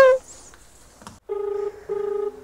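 Two clear, close telephone keypad dialing tones, each lasting under half a second with a short gap between them, following a brief voice at the start.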